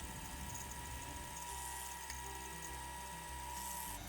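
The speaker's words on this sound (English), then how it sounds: "Getting the countersinks drilled was no picnic." A power drill whines steadily as it bores countersinks into wood for a porch swing, a continuous high-pitched motor drone with slight rises and dips in pitch, close and unbroken, no voices.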